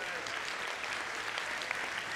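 A church audience claps steadily throughout, a dense, even patter of many hands at moderate distance with no talk over it.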